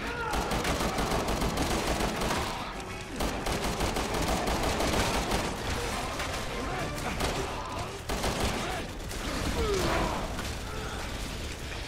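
Heavy gunfire fills a Resident Evil 6 firefight, dense bursts of shots and mechanical clatter rolling almost continuously at close range, with loud game effects throughout.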